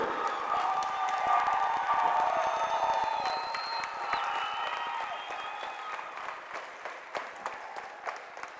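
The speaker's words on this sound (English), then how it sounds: "a big round of applause for Bradley Central's all-time great Barrett" Crowd applause and cheering in a gym at a varsity basketball game ceremony honouring a former player, with a whoop and a voice over the clapping early, then thinning into scattered claps and shouts.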